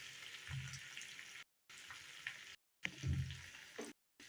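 Curry leaves and asafoetida frying in oil in a pan give a soft, close sizzle and crackle in short bursts, broken by brief silent gaps, with no voices.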